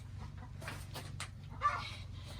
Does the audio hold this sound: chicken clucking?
yes